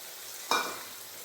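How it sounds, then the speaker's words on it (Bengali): Tomato paste frying in a pan over spices for a Bengali pabda fish curry, giving a soft, steady hiss with one brief louder sizzle burst midway. "টমেটোটাও ভালোভাবে ভেজে নেবো"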